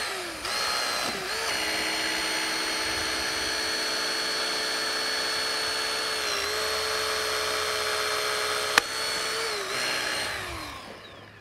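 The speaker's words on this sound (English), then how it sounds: "First tool Ray's going to go with here is going to be the hydraulic cutter" A hydraulic rescue cutter cuts through rebar with a loud, steady mechanical whine lasting about ten seconds. A single sharp crack comes near the end before the whine dies away.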